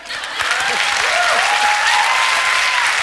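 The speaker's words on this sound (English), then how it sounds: "Now you hear the white people in the audience clapping" A recorded studio audience breaks into loud, sustained applause that swells after a brief quieter start and holds as a dense wash of clapping, with a faint tone sliding underneath.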